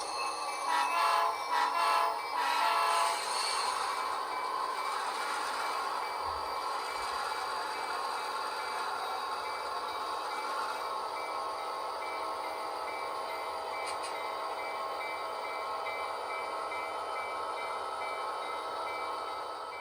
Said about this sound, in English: let's go run some trains